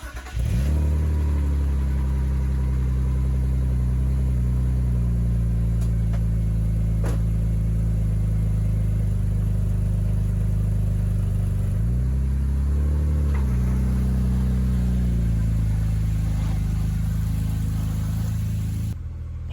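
A BMW E36, freshly back on the ground after transmission reinstallation and clutch slave cylinder replacement, drives with a loud, steady engine drone that rises and falls slightly, close and continuous, with a brief dip midway and no talking.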